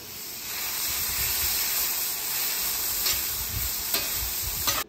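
Chopped vegetables sauté in saved bacon grease for a smoked breakfast casserole, a steady close sizzle and hiss running throughout, with a few soft utensil scrapes partway through and no voices.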